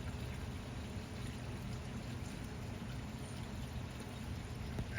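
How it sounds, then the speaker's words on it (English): Water spilling steadily over a Tetra pond waterfall spillway in a backyard pond, a continuous soft rushing and trickling wash heard close up with no voices. "spillway, whatever you want to call it."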